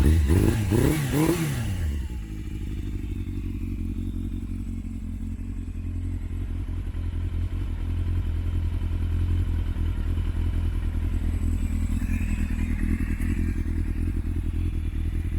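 A cold Yamaha FZS600 Fazer motorcycle engine revs a few times, then settles into a steady, rumbling idle close by, with no talking.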